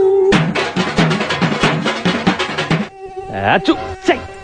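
A mosquito whines loudly and close at night during rain, a continuous buzzing drone that breaks off briefly and then returns in shorter wavering bursts.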